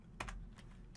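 A few quick keystrokes clatter on a computer keyboard, soft and close, in a short burst of typing.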